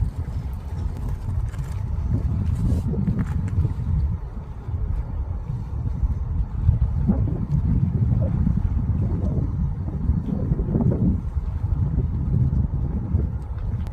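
Strong spring wind gusts across an auto campsite, a continuous low roaring rumble buffeting the microphone for the whole stretch, with no talk.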